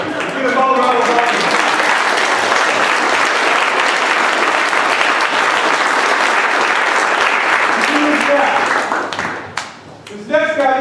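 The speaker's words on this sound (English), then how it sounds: "Give us all a round of applause." Loud, sustained applause from an audience at a jiu-jitsu black belt (nidan) grading, a thick wash of clapping for about nine seconds before fading, with a voice speaking near the start and end.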